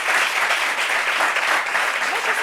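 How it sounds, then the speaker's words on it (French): An audience claps steadily and loudly for a couple of seconds, a dense, even wash of applause without pauses. "On peut applaudir."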